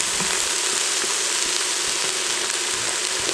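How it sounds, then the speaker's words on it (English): Garlic and vegetables sauté in a pot of a power pressure cooker set to stew, giving a steady, hissing sizzle at moderate level with no talk. "I'm now going to add the garlic."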